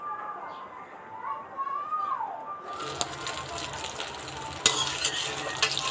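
Eggs frying in a pan burst into a crackling sizzle partway through, with scraping stirring strokes and an occasional utensil knock, after a quieter stretch where a bird calls.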